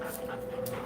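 A dog pants steadily at close range and gives a thin, high whimper over a constant faint tonal hum, with no talking.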